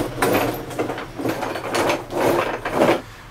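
Ratchet wrench loosening bumper bolts on a 2003 VW Passat during front bumper replacement, several bursts of rapid clicking, fairly loud and close, alone without talk.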